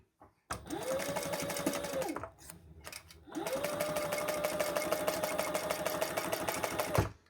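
A sewing machine stitches across the top of fabric panels for a crossbody bag, two close, steady runs of rapid mechanical whirring split by a short pause, with no voices.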